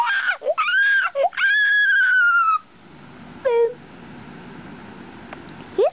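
High, drawn-out screams and wails ring out in bursts, followed by a short shriek and a brief squeal against quiet background noise.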